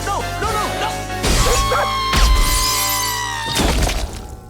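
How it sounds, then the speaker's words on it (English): Heavy object rammed through a glass door, with loud crashes and bursts of shattering glass in several hits, debris tinkling between impacts over a tonal background score. "On 3, we're gonna smash this thing through the door."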